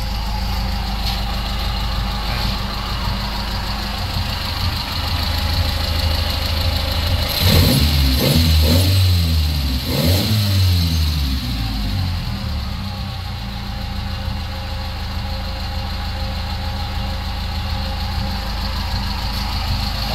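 A 30-year-old Toyota AE92 engine runs after a top overhaul and radiator replacement, idling loudly and close with a steady rough hum and a brief deeper surge midway before settling back to idle.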